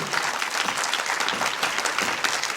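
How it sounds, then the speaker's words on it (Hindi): An audience of students at an Indian intercollege motivational class claps for two teachers, a close, lively burst of many hands clapping, dense and continuous with uneven peaks. "तो जोरदार ताली शुभम सर के लिए, आर्यन सर के लिए भी"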